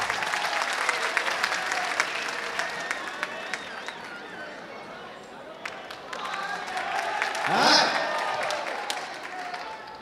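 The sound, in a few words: audience applause for comedian Abu Hena Rony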